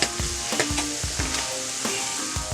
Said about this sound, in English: we're going to let these onions caramelize here and cook down a little bit